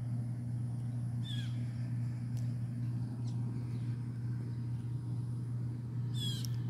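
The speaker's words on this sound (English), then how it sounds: "Look at those birds, you guys." Birds calling outdoors, a few short sharp calls standing out at intervals over a steady low hum of background noise, fairly distant.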